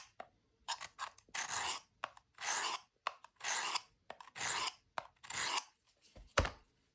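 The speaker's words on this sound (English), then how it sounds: "I was just grinding on the left side" A knife blade is ground by hand on a sharpening stone, working the left side of the edge: a series of about seven distinct rasping strokes, each a second or so long, with short pauses between them, close and clear.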